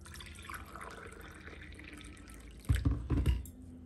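Lukewarm water poured into a glass for chapati dough in a home kitchen, a soft trickling stream that swells into a louder splashing burst near the end, close by and without talk.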